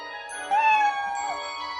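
A cat meows once in the video game Odin Sphere, a clear, drawn-out call that rises and then falls over soft, sustained background music.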